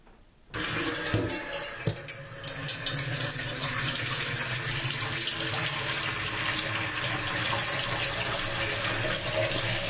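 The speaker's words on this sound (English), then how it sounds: "you're going to fill a pot up with cool water." Cool tap water running into a cooking pot for spaghetti, a steady rushing splash that starts abruptly after a quiet moment and continues evenly, close and fairly loud, with a couple of clunks near the start.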